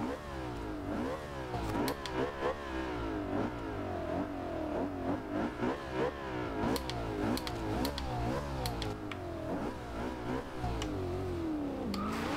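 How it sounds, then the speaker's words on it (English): A 2011 McLaren MP4-12C engine in the video game Forza Horizon 2 revs repeatedly, rising and falling in pitch with sharp gear-shift blips, loud and continuous throughout. "the exhaust sounds a little different, but the whole car just sounds better."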